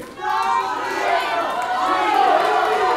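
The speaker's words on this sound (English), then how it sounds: "all you people cheering while that dude" A wrestling crowd at an independent IZW show roars and cheers steadily, a dense wash of shouting voices and chatter filling the hall without pause, with a speaking voice mixed in.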